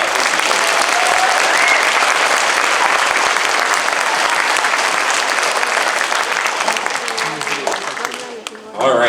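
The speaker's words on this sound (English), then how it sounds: "Okay, one more round of applause." A school audience at a middle school 6th grade spring band concert gives a loud, sustained round of applause from many people. The clapping holds strong and dense, then thins and tapers off at the very end.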